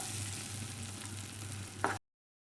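Finely chopped onions sizzle in melted butter in a pan while cooking masala noodles, giving a steady close frying hiss and a brief stirring clatter near the end before it cuts to silence.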